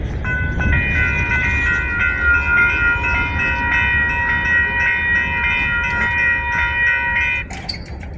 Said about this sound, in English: Another short one. Short grain train.